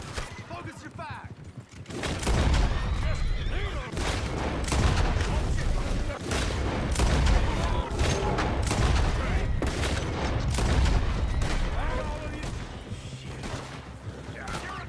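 Heavy gunfire in Red Dead Redemption 2 comes as a dense, continuous barrage of overlapping shots and booms that starts after a short quiet lead-in, with shouting voices mixed in.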